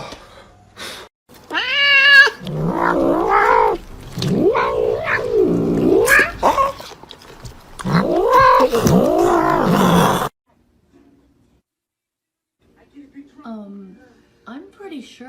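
Cats meow and caterwaul loudly in a house, long drawn-out wavering yowls repeating across several seconds, then falling quiet before a few fainter meows return near the end.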